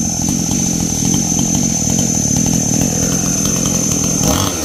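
Chainsaw cutting into a tree trunk outdoors in 37°C heat, a loud, steady close-up engine snarl running throughout with no break, rising slightly in pitch near the end.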